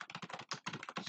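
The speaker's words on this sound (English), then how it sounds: "I'm ready to start typing." Quick, close clicking of computer keyboard keys, a brisk run of keystrokes with a short pause partway through.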